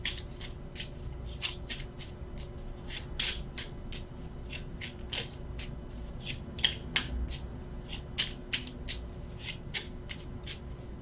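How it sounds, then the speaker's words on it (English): A deck of tarot cards is shuffled by hand, producing repeated crisp riffles and slides in an irregular rhythm, close and fairly quiet over a low steady hum. "Actually, why I keep shuffling"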